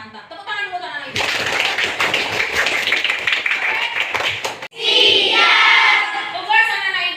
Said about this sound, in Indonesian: Tepuk tangan dulu anak ibu.